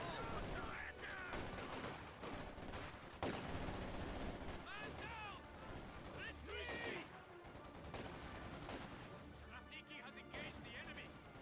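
PPSh submachine gun fire in Company of Heroes 2 rattles in repeated bursts amid other gunfire and explosions of a busy battle, with a commentator talking over it throughout.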